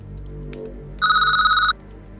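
A telephone rings once in a short electronic burst, loud and clear over a quiet room background with a faint low hum, in a dramatized audiobook scene.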